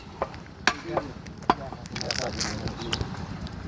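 Butchers at a rural market chop beef with sharp, irregular thwacks of a blade on meat and bone, set amid busy market noise and nearby talk.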